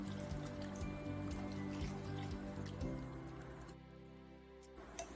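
A flour and milk mixture poured slowly into a pot of cheddar broccoli soup, a faint nearby trickle with soft wet drips and squishes, quiet and continuous without talk.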